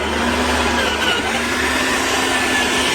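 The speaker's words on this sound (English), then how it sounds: "now let's turn it on" A TACKLIFE 15 amp electric wood chipper and garden shredder runs steadily, a loud continuous motor whir with a faint high whine and a low hum, close and unbroken, with no voices.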